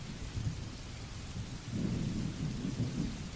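Steady rain patters while thunder rolls low and heavy, swelling louder partway through and rumbling on without any voices.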